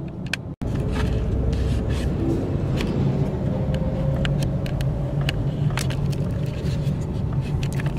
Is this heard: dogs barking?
no